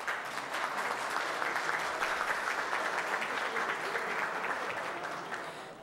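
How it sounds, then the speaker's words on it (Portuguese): Steady, dense applause fills a municipal council chamber during a legislative session, holding at an even level for several seconds with no talk over it. "vereador Kleber Oliveira da Silva, a quem eu peço uma salva de palmas"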